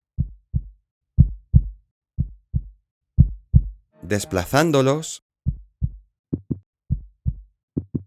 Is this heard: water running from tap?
no